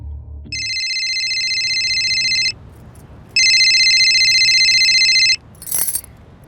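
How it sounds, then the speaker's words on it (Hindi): A phone rings for an incoming call, two long electronic ring bursts separated by a pause, loud and close, followed by a brief clink. "मैंने फोन किया था उसको।"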